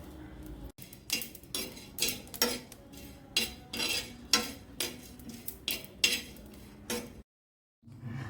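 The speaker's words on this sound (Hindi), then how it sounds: "बस सबको ना थोड़ा सा ड्राई रोस्ट कर लेंगे, उसके बाद हम इसे मिक्सर में पीस लेंगे।" Whole spices being dry roasted in a pan, a series of repeated scraping and clinking stirs with a metal utensil, close and rhythmic, ending in a brief pause before the stirring resumes.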